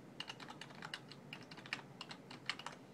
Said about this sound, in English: We are going to type in our Cityworks server